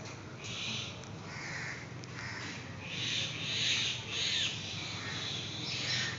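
A myna bird calls repeatedly outdoors near swaying trees, harsh squawking notes recurring throughout over a steady background hiss, moderately distant and without talk.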